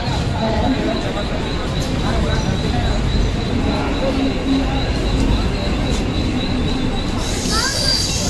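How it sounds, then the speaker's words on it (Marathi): A Mumbai local train arriving at Dadar station, with a continuous loud rumble of wheels and carriages, faint squealing, and a brighter metallic hiss near the end. Voices murmur underneath. "मुंबई लोकल आलेली आहे"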